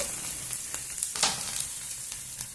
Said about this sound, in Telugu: కొంచెం వేయించుకున్నాము ఉల్లిగడ్డ వేగిపోయింది